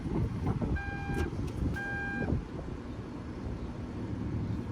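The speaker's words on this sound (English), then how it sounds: "Close your trunk, you can press on this button and it will close for you" A 2019 BMW 540i M Sport's power trunk lid closing at the press of a button, with two clear chime-like electronic beeps over a low mechanical hum and outdoor rumble.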